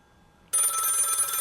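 An old telephone bell rings abruptly, a loud, continuous metallic trill starting suddenly out of near silence, close and alone.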